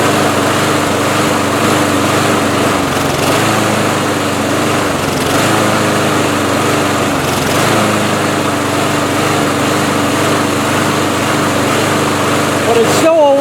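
A lawn mower engine runs while warming up at the last mow of the year, a loud, close, steady drone with slight unevenness throughout.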